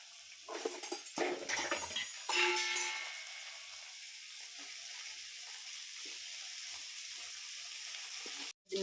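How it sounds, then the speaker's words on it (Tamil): Pirandai (adamant creeper) goes into hot oil in a pan, with a few sharp clattering stirs at first, then a soft, steady sizzle continuing close up. "இப்போ இந்த பிரண்டையை நல்லா எண்ணெயில் போட்டு வதக்கி எடுத்துக்கலாம்."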